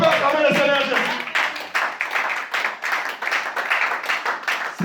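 A church congregation bursts into dense, steady applause and clapping for the Lord Jesus, loud and close, with a voice speaking over the start.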